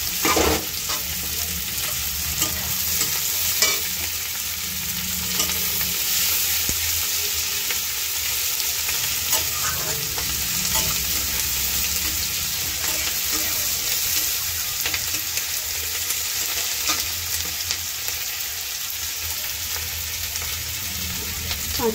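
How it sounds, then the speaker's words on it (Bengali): Capsicum frying in a pan, a dense, steady hiss of sizzling oil running throughout with occasional soft stirring scrapes, close and even in level. "একসাথে ভেজে নেব।"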